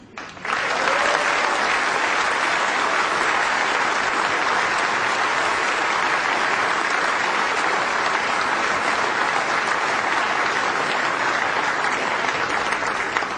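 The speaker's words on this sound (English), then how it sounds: "please your applause for the 2 finalists" Loud, sustained applause from a large crowd at a snooker championship final presentation fills the space, steady and dense throughout with no break.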